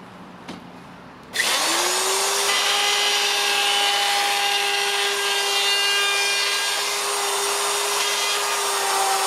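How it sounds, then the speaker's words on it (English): A router fitted with a trimming bit cuts plastic panels for the sides of a composting toilet. After a brief quiet moment it starts up, and a loud, steady high-pitched whine then runs without a break to the end. "trimming the plastic panels for each side of the composting toilet to their correct size using a trimming bit on the router"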